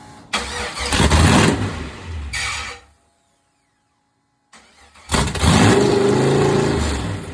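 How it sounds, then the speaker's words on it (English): An 800hp C10 truck engine fires for the first time, cranking and catching into a loud, rough idle that cuts out, then restarts after a pause of silence and settles into a heavy, angry rumble. "I finally had a tuner come out to get this guy started."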